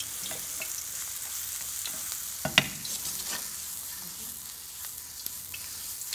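Shredded cabbage with mushrooms wilts in a hot pan for a spring roll filling, hissing in a steady, bright sizzle with a few sharp clicks and scrapes as it is stirred.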